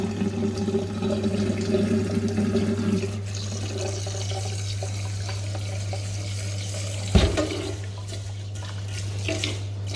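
Rice is rinsed under a running sink tap, water flowing steadily with a low hum beneath, a brief splash and knock near the end as the grains are swirled.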